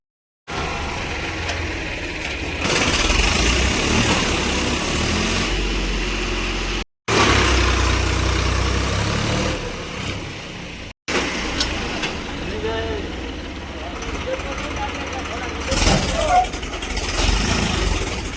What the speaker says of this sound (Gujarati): એટલે ટ્રેક્ટર આવ્યું છે ને એ હલવાનું છે